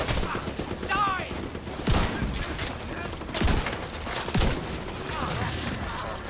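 Shotgun blasts in the video game The Division 2 go off in several heavy booms amid busy gunfire and game sounds, with a voice talking over the action.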